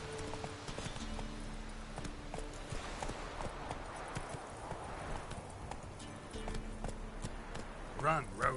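A horse in the video game The Witcher Wild Hunt gallops in a steady, rhythmic clip-clop of hooves throughout, with a brief louder burst near the end and a voice talking over it.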